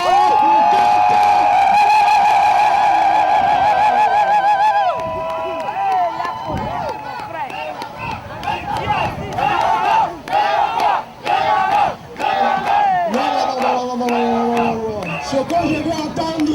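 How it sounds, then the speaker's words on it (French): Crowd of demonstrators at a rally in The Hague, Netherlands, cheering and shouting loudly, with sustained whistles or horn-like tones at first, then rougher bursts of shouts and clapping that rise and fall. "faites du bruit, applaudissez très fort"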